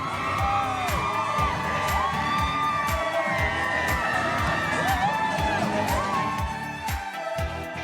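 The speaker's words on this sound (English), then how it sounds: "all of the people cheering on from the sidelines" A parade crowd lining Madison Avenue cheers continuously: whoops, shouts and children's yells rise over a dense roar of many voices, loud and sustained, with bright rising calls cutting through.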